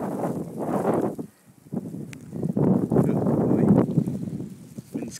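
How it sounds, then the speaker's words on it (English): Strong northeast blizzard wind whips around the corner of a house by a back porch, roaring and buffeting the microphone in gusts with one brief lull. "the wind is strong enough coming around the corner of the house"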